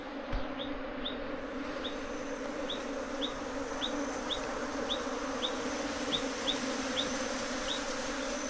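Bees buzz in a low, steady hum, with a faint, evenly spaced high ticking repeating throughout.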